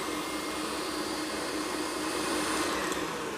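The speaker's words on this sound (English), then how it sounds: "Let me turn off my machine and let you see it." An electric mixer beats ladyfinger batter with a steady, loud whirring drone that runs unbroken and close throughout.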